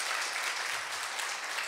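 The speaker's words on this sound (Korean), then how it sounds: "다시 한번 뜨거운 박수 부탁드리겠습니다" A church congregation claps warmly during a Friday service, a dense steady applause filling the room throughout.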